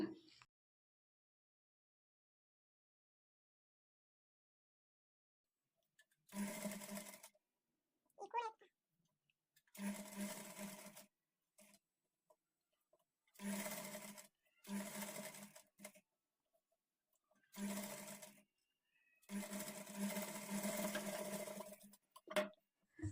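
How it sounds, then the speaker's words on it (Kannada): A sewing machine stitches piping onto the edge of a front-slit designer kurti, running close up in several short whirring bursts separated by silent pauses. "ಈ ಕ್ಲಾತನ್ನು ಇದ್ರ ಮೇಲಿಂದ ತಗೊಂಡು ಎಡ್ಜ್ಗೆ ಸ್ಟಿಚ್ ಮಾಡಿಕೊಳ್ಬೇಕು"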